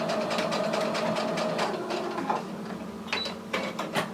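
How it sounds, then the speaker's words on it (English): A sewing machine runs close by, stitching a cushion slip cover with a steady mechanical whir, then slows into a few short bursts as it back tacks at the end of the seam. "presser foot down, and stitch back to our other end. Don't forget to back tack."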